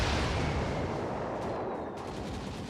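Gyrocopter's flak cannon striking in a Dota 2 match at The International 2021: a dense, continuous roar of rapid gunfire-like impacts with sharper cracks layered in, loud and busy throughout, no voice heard.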